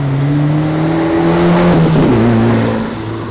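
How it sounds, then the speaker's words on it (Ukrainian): A Soviet-era car from 1982, inherited from a father and modified for racing, revving loudly at an airport speed event, with a steady close engine drone whose pitch drops as it shifts partway through. "Деякі оновлення і авто радянських часів перетворилось на машину для перегонів."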